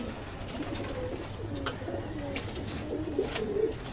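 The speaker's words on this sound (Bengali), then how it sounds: "আমার কবুতর এখানে যা আছে সবই আমার প্রিয় কবুতর" Pigeons coo softly and repeatedly at close range, low rolling calls over a steady background hum.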